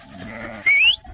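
A single short bleat, likely from a sheep, sounds on a farm during deworming, marking and weaning work, close and brief after a low murmur.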